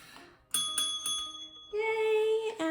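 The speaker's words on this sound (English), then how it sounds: "Let me grab my bell" A hand bell rings several bright metallic dings in uneven bursts, close and clear, each tone lingering briefly before the next strike.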